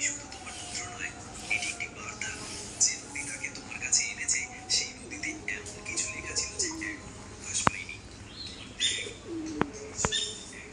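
Desi chickens, some of them naked-neck birds, on a farm alongside chicks, giving soft clucks and chirps close by while someone talks over them, with a few sharp clicks near the end.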